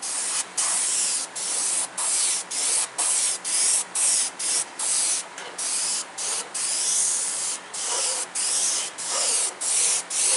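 An airbrush spraying paint freehand to fill in a silhouette, heard as a close, loud hiss that repeatedly starts and stops in short bursts, each lasting under a second, with no talking.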